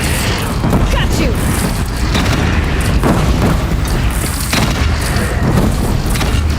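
Weapon fire in the final chapter of the video game Horizon Zero Dawn: repeated heavy booms and blasts over a dense, loud roar of battle noise, with voices mixed in.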